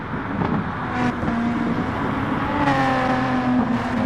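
NASCAR race cars roar in the Gran Turismo Sport video game, a steady engine drone with rising and falling pitch as cars pass, mixed under a continuous background.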